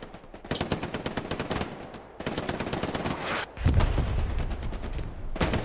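Machine guns fire in the Hell Let Loose game during a competitive console match: long rapid bursts of gunfire, some distant and some near, with a heavier, louder volley coming in partway through.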